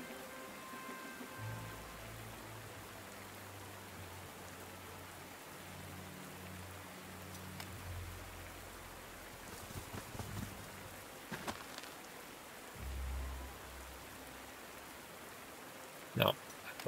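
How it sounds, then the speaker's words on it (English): Rain falling in the World War II strategy game Panzer Corps 2 makes a faint, steady hiss of rainfall. Soft low tones play beneath it, with a few brief clicks near the end. "Raining again."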